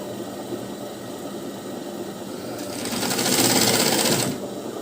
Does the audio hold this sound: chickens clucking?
no